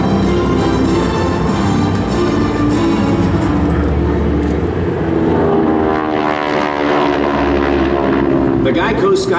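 A GEICO Skytypers propeller airplane flies past at the 2011 NAS Patuxent River air show, its droning engine loud and continuous with a shifting pitch as it passes, and an announcer talking over it.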